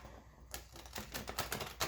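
Large Poppy Palin tarot deck shuffled from the side, a quick run of crisp card riffles and slaps in uneven bursts, close and fairly quiet.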